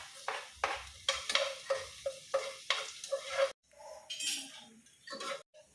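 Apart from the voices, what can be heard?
onion and garlic sautéing and stirring in a pan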